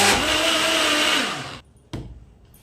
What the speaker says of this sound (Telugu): అన్నీ ఒకసారి గ్రైండ్ చేసుకుంటే సరిపోతుంది